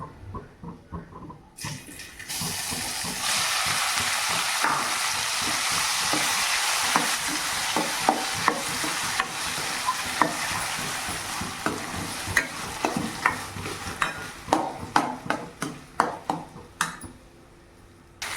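Mashed boiled amla (gooseberries) with dried red chillies frying in oil for gooseberry dal, a loud continuous sizzle followed by a run of rhythmic scraping stirs and clanks.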